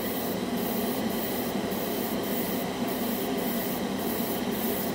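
A $14 dual action airbrush sprays a light first coat of lacquer-based acrylic paint, a steady loud hiss of air that runs unbroken and close throughout.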